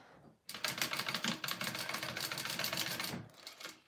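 Sewing machine stitching the edges of a faux leather wallet, starting abruptly into a rapid, rattling run of needle strokes that lasts under three seconds before stopping, close and loud.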